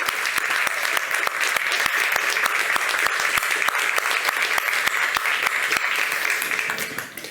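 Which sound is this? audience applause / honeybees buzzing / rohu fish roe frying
audience applause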